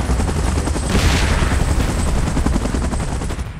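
A helicopter in PUBG, its dense rotor chop running loud and continuous, mixed with rapid gunfire bursts throughout.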